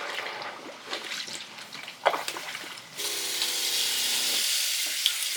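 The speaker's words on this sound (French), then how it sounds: "Deuxième rinçage." Laundry rinsed by hand in soapy water aboard a boat, close splashing and sloshing that turns into a steady rush of pouring water partway through, with no voices.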